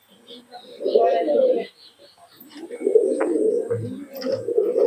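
Imported pigeons coo in two or three low rolling phrases, close and moderately loud, with a voice speaking between them.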